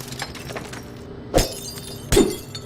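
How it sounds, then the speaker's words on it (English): Glass shattering in the video game Estranged, two sharp breaks about a second apart, each a crisp crash with a short tinkling tail over quiet background. "Can't just break the glass."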